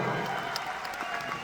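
Applause from an audience at a Vestige event, a brief burst of many hands clapping, steady and fairly close.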